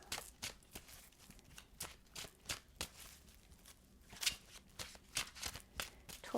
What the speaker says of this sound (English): let's shuffle and pull the cards